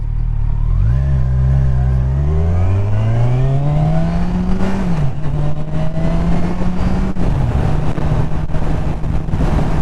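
A 2019 Kawasaki Ninja Z1000SX motorcycle engine accelerating through rising revs, then shifting and holding steady at speed, loud and constant with heavy wind rush over the microphone.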